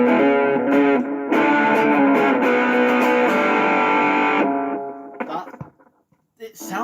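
A guitar played through an amplifier with a little reverb rings out in thick, sustained distorted chords for several seconds, then breaks into shorter choppy notes before a brief pause.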